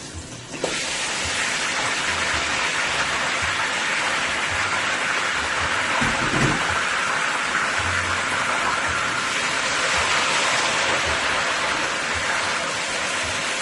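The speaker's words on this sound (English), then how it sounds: "So I'm going to add my beef into my pan here." Beef searing in hot olive oil in a pan over high heat for a stir fry makes a loud, continuous sizzling hiss that starts with a brief clatter and holds steady throughout.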